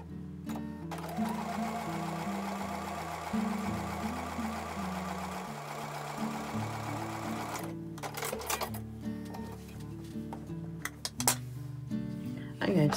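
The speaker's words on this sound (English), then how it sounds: "Going to go back over to the sewing machine for the last seam of this block." A sewing machine stitches the last seam of a duck-and-ducklings quilt block, running in a steady rapid whirring hum that shifts pitch as speed changes, then stops, followed by clicks and handling noises close by.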